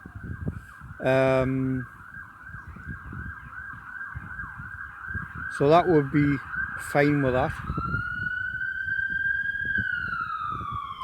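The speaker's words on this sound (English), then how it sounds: "as an ambulance passes where I am, as you can hear in the background" An ambulance siren wails steadily in the background and then slides in pitch as it passes, while someone talks briefly and sharp bird calls break in.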